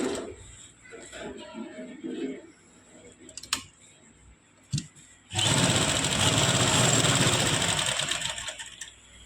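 A sewing machine stitches the neckline of a kameez in a steady, loud continuous run that starts partway through, after softer handling sounds and brief taps.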